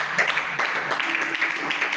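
A church congregation applauding, a dense patter of clapping hands that stays steady over two seconds.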